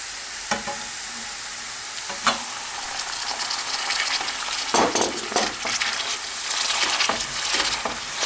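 Minced meat sizzles in olive oil with golden fried onion in a pan, a steady close crackle broken by several scraping stirs and spoon clatters, with no talking.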